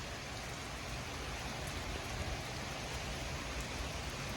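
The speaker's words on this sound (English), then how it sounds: "We're definitely seeing rain coming through and being influenced by some of this wind." Steady rain falls during a severe supercell thunderstorm, a soft continuous hiss with gusty wind and no voices.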